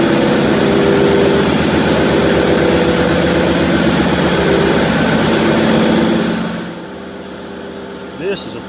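A Caterpillar 3616 V16 turbocharged engine of over 3,000 horsepower, driving a six-cylinder gas compressor package inside a building, roars loud and steady with a heavy tonal drone before dropping to a lower background hum.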